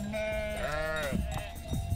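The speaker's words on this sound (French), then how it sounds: "Nos brebis sont issues de la race locale Préalpes du Sud." Préalpes du Sud ewes bleat in a drawn-out, wavering call, with a second bleat overlapping near the flock, set against steady farmyard background noise.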